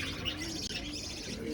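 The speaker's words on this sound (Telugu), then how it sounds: "ఇది బజ్జీస్ కాలనీ అండి." Budgerigars chirping in a busy breeding colony, a continuous bright twittering chatter filling the space at close range with no pauses.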